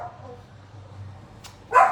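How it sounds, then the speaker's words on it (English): A pet dog at a house window barks at passers-by: a quiet stretch of room hum, then a single loud, close bark near the end. "every single thing that goes by our house, she's gonna bark at"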